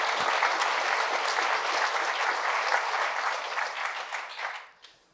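An audience applauds a second panelist at a business panel on e-commerce strategy, dense steady clapping filling the room for about four and a half seconds before quickly fading out.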